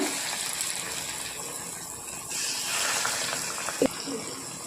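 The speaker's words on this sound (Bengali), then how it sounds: "কড়াইতে তেল দিয়ে দিয়েছি, গরম হয়ে গেছে, ছোট ছোট করে পকোড়া বানিয়ে নেব" Small lentil pakoras made from mung and chana dal frying in hot oil in a wok, a steady soft sizzle and bubbling with a brief clink of a utensil near the end.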